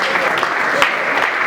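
Audience applause at an awards ceremony, a brief burst of dense clapping with voices mixed in.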